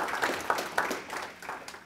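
A short burst of scattered audience applause at a diabetes talk, a small group clapping unevenly and fairly softly for a couple of seconds.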